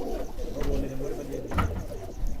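A racing pigeon coos softly with low, throaty murmurs amid a steady background hum, with a brief louder coo near the middle.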